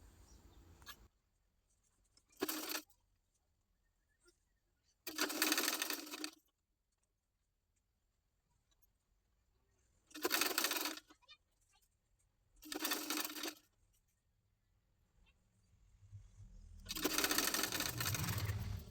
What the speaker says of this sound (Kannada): ಈ ರೀತಿ ಇದನ್ನು ಫೋಲ್ಡ್ ಮಾಡಿ ಸ್ಟಿಚ್ ಮಾಡ್ಕೊಳ್ಳೋಣ.